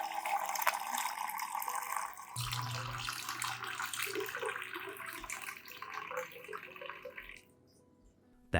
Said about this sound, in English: Add 500 milliliters of clean water to dilute the solution.